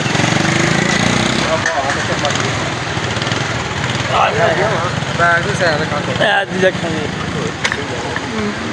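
A motorcycle engine idles with a continuous, rough drone on a cold, rainy day, while someone talks over it close by.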